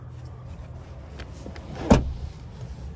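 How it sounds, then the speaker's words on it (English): A rear seat in a 2023 Toyota Crown XLE AWD hybrid folds down inside the quiet cabin, giving one sharp thump with a brief mechanical clunk, preceded by faint rustles. "to fold that rear seat down. And I'm going to demonstrate that for you right now"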